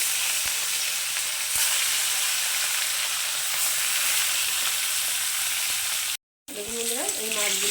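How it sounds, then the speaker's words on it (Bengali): Bhola fish sputters and hisses loudly in mustard oil, a continuous close crackle that cuts out briefly, followed by faint wavering tones near the end. "এখন আমি মাছগুলোকে ভেজে নেবো"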